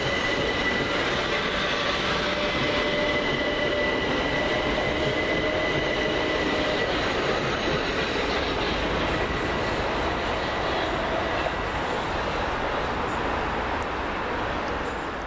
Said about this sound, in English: The 1456 Southern Railway service from uh, Beckenham Junction to London Bridge via Tulse Hill.